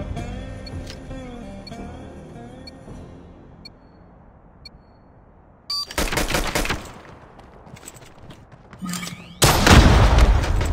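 Gunfire in the Call of Duty video game: loud, rapid automatic bursts break in twice, the second one harsher and closer, after a quieter stretch of low rumbling background.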